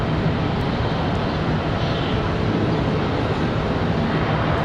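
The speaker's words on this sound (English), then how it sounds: "A little E175 departure." An Embraer E175 regional jet departs from Charlotte airport, its engines a steady, even low rumble and hiss at moderate distance, holding constant throughout.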